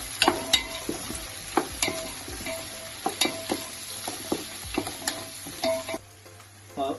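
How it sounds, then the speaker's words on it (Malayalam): Sliced onions and green chillies frying in a pan for tapioca biryani, with steady sizzling and repeated scraping clinks of a spoon stirring them, close and fairly loud throughout. "പിന്നെ കുറച്ച് പച്ചമുളക്, ഇതൊന്ന് ചെറുതായിട്ട് നമുക്കൊന്ന് ഇളക്കി കൊടുക്കാം."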